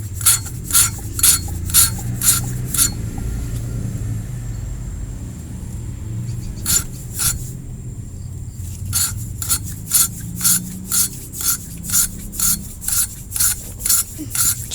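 An engine valve being lapped into its seat by hand, turned back and forth in one direction, giving rapid rhythmic gritty rasping strokes close up, with a pause in the middle before the steady scrubbing resumes over low background rumble.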